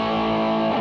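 An electric guitar rings through a Filthy amp with a touch of amp reverb, one sustained distorted chord held loud and thick for under a second.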